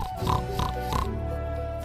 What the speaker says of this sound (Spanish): y los cerdos.